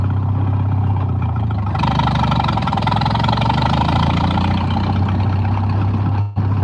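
An engine with no muffler running loud and raw up close, a steady throbbing drone that grows harsher and brighter as it picks up slightly, with a brief dropout near the end.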